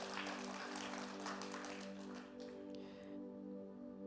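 Applause from a congregation during a church worship service, a broad wash of clapping over sustained music and organ-like tones, fading slightly toward the end.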